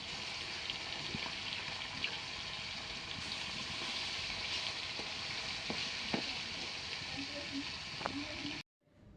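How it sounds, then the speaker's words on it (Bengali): Bhangan fish, rubbed with salt and turmeric, fry in mustard oil in a kadai, giving a steady close hiss of bubbling oil with faint occasional pops and light clinks, continuous until it cuts off abruptly near the end. "এবার আমি ভাঙন মাছগুলো ভেজে নেব নুন হলুদ মাখিয়ে"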